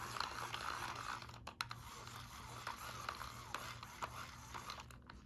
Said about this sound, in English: There's like a weird clicking going on that right-hand wheel that doesn't seem very good.